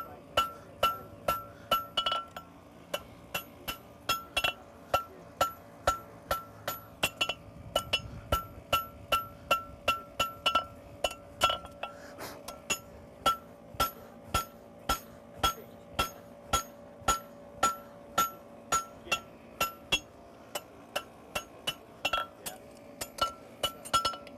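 A farrier's hammer rings on a horseshoe over an anvil while shaping its heel, with dozens of sharp metallic clinks in a steady rhythm. There are a few brief pauses between bursts.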